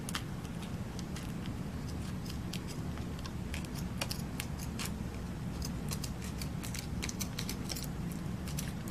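Scissors snip excess duct tape while a flower pen is being made, a steady run of sharp close clicks and cuts over a constant low background hum.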